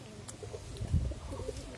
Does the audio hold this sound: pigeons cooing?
yes